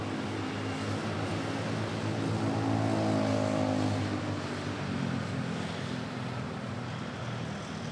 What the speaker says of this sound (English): Another Bacolod Manila flight, this time Philippine Airlines touching down.